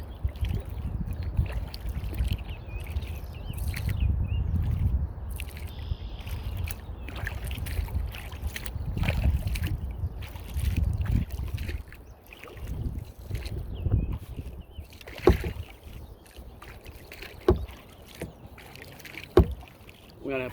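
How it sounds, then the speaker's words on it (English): A small boat is paddled across a mill pond, with soft splashes, water trickle and occasional paddle knocks over light wind noise. "Hope you've enjoyed this paddle around Dewey's Mill Pond."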